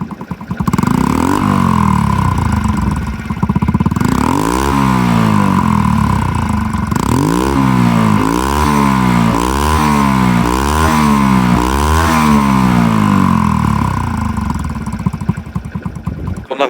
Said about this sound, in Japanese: せっかくなんで排気音と走行シーンちょっとお見せしますかね